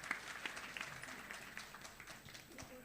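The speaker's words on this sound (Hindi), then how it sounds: "आप लोग ज़ोरदार तालियां बजावें." Audience applause at an Indian awards ceremony, a steady wash of many hands clapping, fairly faint and distant, with some crowd murmur mixed in.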